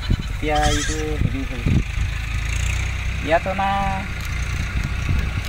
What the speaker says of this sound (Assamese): ছাগলী মে বুলি কোৱাৰ লগে লগে আপুনি সাৰ পায়নে?